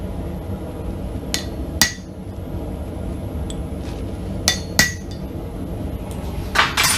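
A hammer strikes metal while a skull necklace is blacksmithed, landing as sharp ringing blows in irregular pairs and singles, close and clear over a quiet workshop background.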